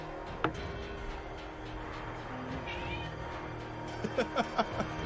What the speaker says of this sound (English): there's this random cat sound